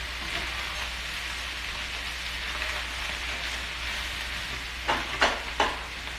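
Spam and salmon fried rice sizzles steadily in a hot pan, a dense, even frying hiss throughout, ending in three quick scraping tosses of the rice close by.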